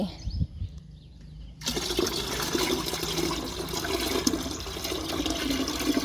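Rice-washing water pours into a watering can, starting abruptly after a quiet moment as a loud, steady gushing and splashing stream that continues to the end.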